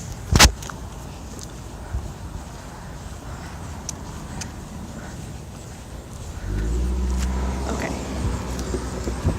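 Road traffic rolls past near someone walking outdoors, a steady vehicle rumble that swells louder and deeper toward the end as a car comes close, with a sharp thump near the start.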